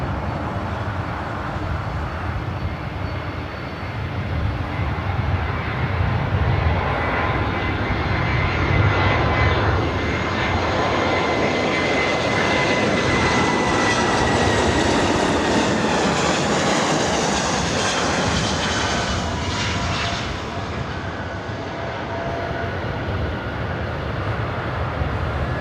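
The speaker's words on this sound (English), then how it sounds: "It's an old Northwest A320." An ex-Northwest Airbus A320 jet airliner rumbles and roars past at Los Angeles International Airport, its loud engine noise swelling and then fading over about twenty-five seconds.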